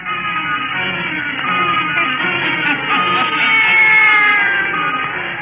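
A black cat meows and caterwauls in a long, continuous wavering cry within an old witch-themed radio drama, loud and steady, likely a performer imitating the cat.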